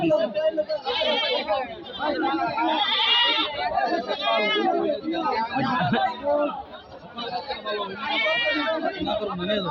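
Goats bleat repeatedly amid a crowd's lively chatter and overlapping voices, a busy Eid goat market at Jamalpur, Gazipur, close by.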